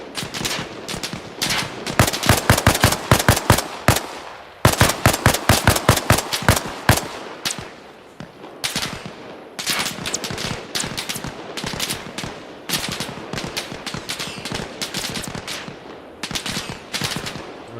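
Automatic gunfire in the military shooter Arma Reforger, loud rapid bursts of shots repeating in close succession with short pauses between volleys.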